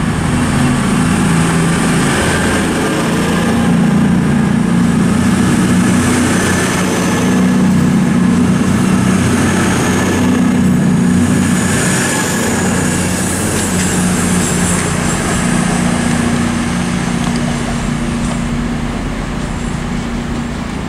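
A Turbo diesel train pulls into Oxford station, its engine a loud, steady low drone with a rumbling mechanical hum that swells and eases slightly while holding close for the whole stretch.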